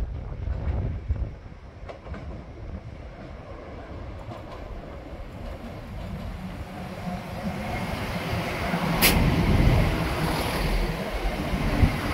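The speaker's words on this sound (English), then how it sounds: "now we have a cross country going to Birmingham New Street" A CrossCountry train bound for Birmingham New Street runs through Leicester station with a broad rumble that swells and grows louder toward the end, a brief sharp hiss near the end, and no voices.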